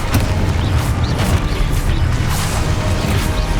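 Confringo and Exposo spell blasts in Hogwarts Legacy go off in quick succession, a dense cluster of booming crashes and sharp bursts layered over a rumbling low roar, with no pauses.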